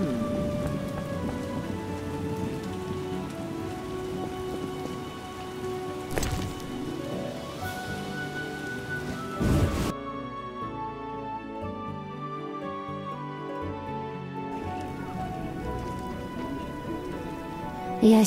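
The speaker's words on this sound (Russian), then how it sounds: "От этого дождя у меня голова болит." Steady rain pours in The Witcher video game, a continuous hiss of drops on surfaces with soft thunder in the background and a brief ambient shift partway through; no talk.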